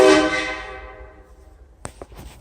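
A Dodge truck horn blares loudly right at the start with a rich, steady tone that fades over about a second, followed by a few sharp clicks and knocks nearby.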